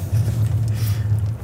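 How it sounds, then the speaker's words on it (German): A loud car engine drones steadily from inside the cabin while driving in slow, stop-and-go traffic, a deep continuous rumble with no voices over it. "Lukas Auto ist sehr nice, aber auch sehr laut."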